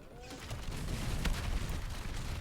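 Rapid volley of cannon blasts from an enlarged sloop-class ship in the naval game Maelstrom, dense booming fire layered over continuous battle rumble, loud and close, with a sharp heavier impact midway.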